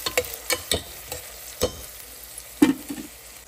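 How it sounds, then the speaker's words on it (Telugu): Onions and green chillies sizzling in a pan with ginger garlic paste, with a spoon stirring in scattered scraping strokes over a soft steady fry, no voices. "ఉల్లిపాయలు కొంచెం బ్రౌన్ కలర్ వచ్చే వరకు వేసుకోవాలి."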